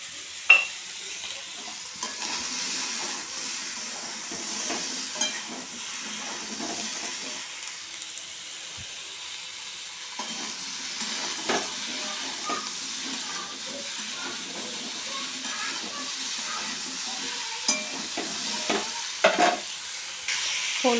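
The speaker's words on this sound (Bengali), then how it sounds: "ফুলকপি আলুটা ভাজছি, তার মধ্যে একটু নুন দিয়ে দেবো" Cauliflower and potato pieces fry in a pan with a continuous soft sizzle and hiss, broken by occasional scraping stirs and clinks of a spatula, with no talking.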